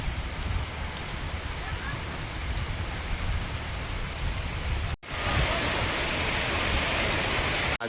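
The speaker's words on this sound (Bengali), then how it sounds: "আজকের এই মুহূর্তে বৃষ্টিটা দেখে মনে হচ্ছে একেবারে বর্ষা চলে এসেছে।" Heavy monsoon rain pouring in a village, a dense steady hiss of drops on surfaces that cuts out briefly and resumes even louder and brighter, close and continuous.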